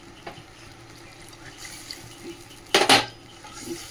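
Water poured into a simmering pan of Bengali fish curry, a short, loud splashing gush near the end, set among faint clinks and soft kitchen handling noises.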